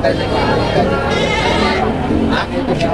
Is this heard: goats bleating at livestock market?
yes